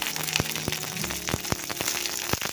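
Ginger, garlic and green chillies frying in hot oil for onion chutney, a dense close sizzle and spatter with scattered sharp pops across the whole span.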